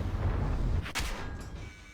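A tank cannon fires in a tank battle video game: a loud, close boom with a sharp crack and a rumbling tail.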